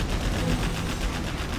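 Rapid, dense automatic gunfire from miniguns in the real-time strategy game Command & Conquer Generals Zero Hour, a continuous, loud, rattling burst with no pauses.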